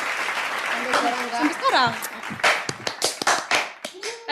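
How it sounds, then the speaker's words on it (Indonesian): A school assembly audience at SMA Negeri 7 claps hands, first a wash of clapping under a speaking voice, then thinning into separate sharp claps and a few scattered beats near the end. "tepuk tangan ngoni yang di belakang-belakang, tepuk tangan"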